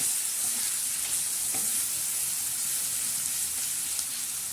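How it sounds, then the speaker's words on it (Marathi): Soybean chunks with garlic chutney stir-fry on a hot tawa, giving a continuous soft sizzle with faint occasional scraping, no voices. "आता हे चांगलं असं परतून घ्यायचं"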